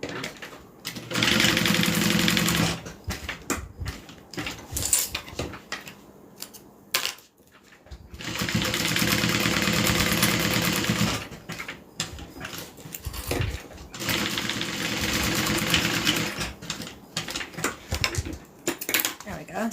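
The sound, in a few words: sewing machine stitching a custom card wallet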